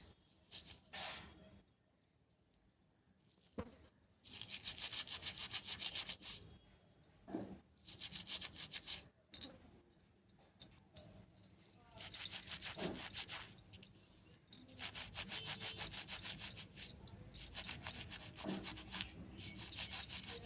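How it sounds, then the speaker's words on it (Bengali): Silver items scrubbed with a brush and a little water, giving repeated bursts of close, harsh rubbing strokes separated by short pauses, with no talk. "ব্রাশ দিয়ে ঘষে নেব এগুলোকে"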